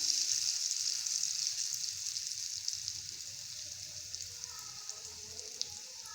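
An egg roll fries gently in hot ghee over a low flame, a soft steady high sizzle, faint and close, that thins slightly over a few seconds, with no voices.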